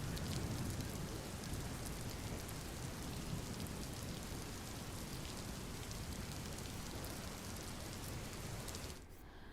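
Steady, heavy rain pours down across a Gujarat district in monsoon weather, a dense continuous hiss that stays loud and even before thinning slightly at the very end.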